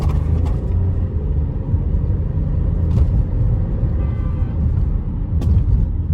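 Steady low engine rumble and road noise from a Seat Arona 1.0 turbo climbing a hill, sustained and even throughout, with a few faint clicks and no talking.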